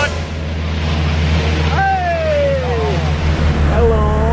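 A speedboat runs across Lake Powell, its steady engine drone and hull rumble continuous throughout, with excited voices calling and shouting over the top.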